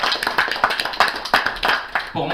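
An audience applauds at an evening tribute event, close, uneven clapping with distinct individual hand claps forming a lively rhythm for a couple of seconds, and a voice starting near the end.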